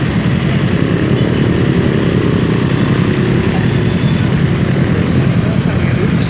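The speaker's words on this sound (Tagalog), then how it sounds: "Mas maraming motor kasi yun ang kanilang means of transportation." Motorcycle engines drone in a dense, continuous roar at a busy Bandung street intersection, many bikes idling and passing close by without pause.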